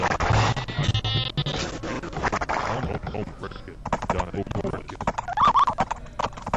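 Scout cavalry hooves clip-clopping in Age of Empires, a steady rapid galloping patter with occasional whinnies and game effects, heard under continuous excited commentary from a caster.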